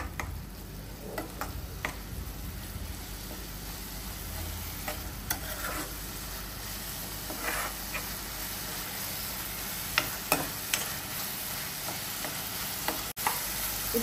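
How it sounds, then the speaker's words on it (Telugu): Ginger garlic paste and tomato cook in a pan for a prawn curry, a soft continuous sizzle with scattered light clicks and scrapes of a spoon stirring at irregular intervals, close and without talk. "అల్లం వెల్లుల్లి పేస్ట్ కూడా యాడ్ చేసుకుందాం. ఇవి మొత్తం పచ్చివాసన పోయేదాకా వీటిని కలుపుకుందాం."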